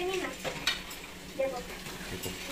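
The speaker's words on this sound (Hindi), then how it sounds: "ये देखो खास आवाज झींगा" Shrimp frying in a pan at home, a soft continuous sizzle with occasional light clinks of a stirring utensil against the pan, fairly quiet and close.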